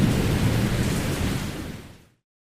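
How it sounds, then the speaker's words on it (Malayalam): Heavy cartoon rain roars steadily with wind-like broadband rush, loud and continuous throughout before fading out abruptly near the end; no voices. "2 ദിവസത്തിനു ശേഷം ശക്തമായ കാറ്റിനൊപ്പം മഴ പെയ്തു."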